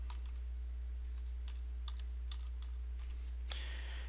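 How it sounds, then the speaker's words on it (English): Steady, evenly spaced taps on a computer keyboard as a password is entered at a website login, crisp close keystrokes over a constant low hum, ending in a slightly louder final press. "And I'm going to type in my password."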